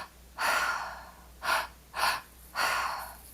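Four deep, slow breaths taken during guided breathwork, each a long breathy inhale or exhale separated by short pauses, close and clear with no talking.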